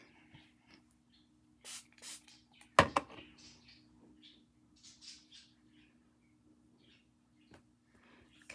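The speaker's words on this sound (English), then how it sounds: "And then I'm just going to give it a spritz." A hand spray bottle spritzes dye onto sari silk ribbons, two short hissy bursts close by, followed by a sharp knock and soft handling rustles in a quiet room.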